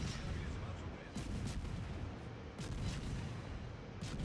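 Naval gunfire from warships in the video game World of Warships, a steady roar of repeated cannon salvos with sharp booming reports recurring every second or so over continuous low rumbling battle noise.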